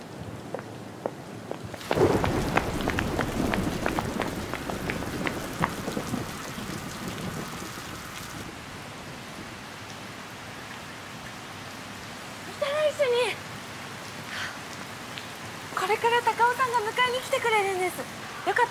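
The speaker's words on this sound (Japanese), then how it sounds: "雨。" Steady rain pours down outdoors in a city street scene, starting abruptly after a quiet moment and continuing as a dense hiss, with distant thunder and brief speech from a couple of people.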